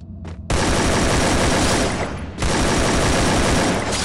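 Heavy gunfire in a battle royale video game starts abruptly after a faint pop, then roars as a loud, dense, unbroken barrage, dips briefly around the middle and resumes just as intense.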